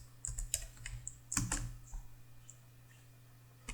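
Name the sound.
typing Java code on a computer keyboard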